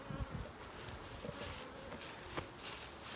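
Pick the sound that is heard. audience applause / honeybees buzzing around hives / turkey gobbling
honeybees buzzing around hives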